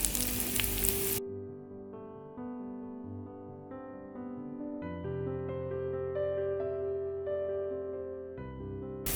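Garlic and onion sizzle loudly in a frying pan for about a second, then tonal background music takes over. The crackling frying returns briefly at the very end.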